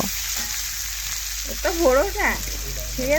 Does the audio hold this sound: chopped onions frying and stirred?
yes